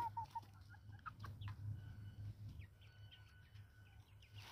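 Chickens and a rooster cluck and chirp softly nearby over a low steady hum, with scattered short calls from several birds.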